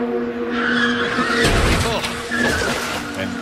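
IndyCar race car skidding at speed during practice at the Phoenix Grand Prix, a loud sustained screech of tires with engine roar and a rushing, scraping burst midway, sounding close and intense throughout.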